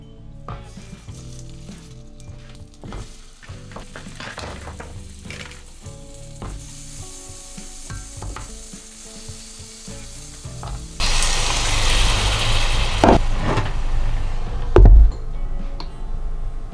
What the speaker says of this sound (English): I can handle steaming some dumplings in the pan